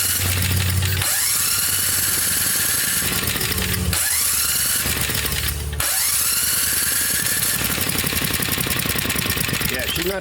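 A 5.5 hp Tecumseh engine fitted to a Doodle Bug mini-bike runs without throttling up, giving a loud, continuous close drone that briefly changes pitch a few times.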